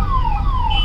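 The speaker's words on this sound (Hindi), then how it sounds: "सायरन बज रहा है" An ambulance siren wails in heavy, jammed Delhi traffic, its loud, close tone sweeping downward over a rumbling engine and road noise.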